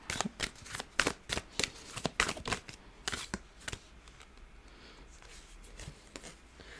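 Oracle cards being shuffled by hand before an advice card is drawn, a quick run of crisp riffling slaps close up that thins out into softer shuffling rustles, with no voices.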